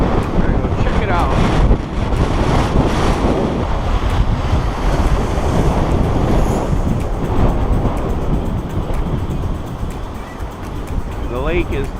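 Big waves on Lake Michigan in downtown Milwaukee, a loud churning surf wash mixed with heavy gusting wind buffeting the microphone, continuous and close, with a voice speaking over it.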